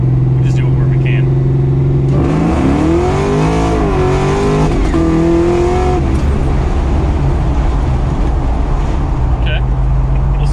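A supercharged Chevy Nova accelerates hard, its engine note climbing and wavering loudly and close throughout, with people talking over the roar.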